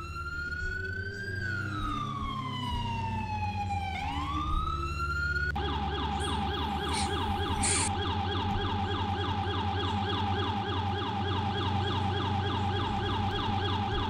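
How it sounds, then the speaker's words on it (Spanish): Police car sirens in Arma 3 roleplay wail continuously, first a rising and falling sweep, then a rapid yelping pattern that repeats steadily and loudly throughout, close by with an engine rumble underneath. "¿Quitamos las sirenas?"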